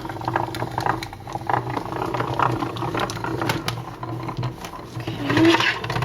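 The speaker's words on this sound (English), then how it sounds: "the whole thing will go right through the embossing machine" An embossing machine runs a flexible cutting mat through its rollers in a steady, continuous mechanical whir with light rattling and clicks, close up and moderately loud, with no voices.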